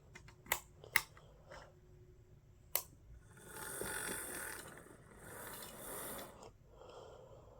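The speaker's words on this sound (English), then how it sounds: "Well, they coupled up." Bachmann model train cars couple up, with a few sharp metallic clicks early on, followed by a soft whirring rumble of the small locomotive moving along the track.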